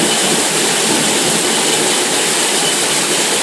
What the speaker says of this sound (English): This is what a Georgia rainstorm is like.